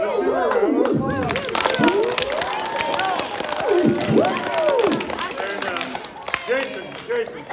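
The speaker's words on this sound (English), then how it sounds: "Let's give her a round of applause." An audience at a children's science show claps and cheers for a volunteer who played a theremin. The applause mixes with chatter and excited voices, and a few voices rise in loud sliding tones over the clapping.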